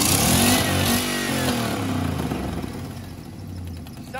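An old GMC truck engine idles rough and uneven, its low throbbing rumble loud and close throughout with a slight wavering rise in the middle.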